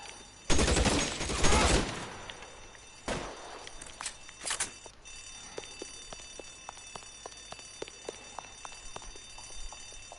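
In the LA Noire shootout, loud bursts of gunfire erupt early, followed by scattered single shots and sharp cracks that thin out into sparse, quieter pops across the rest of the scene.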